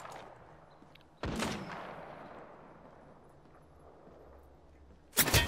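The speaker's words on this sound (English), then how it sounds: "Taking fire." Gunfire in a first-person shooter video game: one sharp, loud shot with a long decaying echo, a quieter stretch, then another burst of shots at the end.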